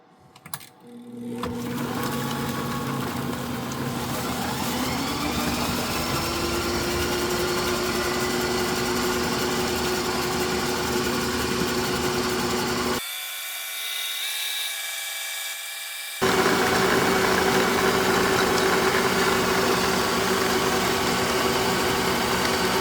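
Ankarsrum and Ooni Halo Pro stand mixers whip together with a steady high mechanical whine and hum that runs for a long stretch, close and loud. One machine briefly drops out before both resume, and no one speaks.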